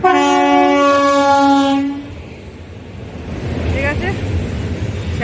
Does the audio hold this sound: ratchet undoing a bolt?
no